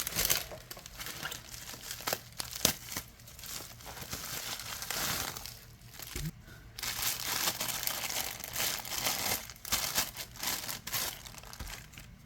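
Plastic packaging crinkles and crackles continuously up close as it is torn open and handled, with occasional sharper snaps.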